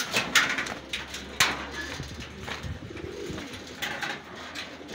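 Racing pigeons coo softly nearby, soft throaty calls rising and falling among occasional clicks and taps in a quiet loft.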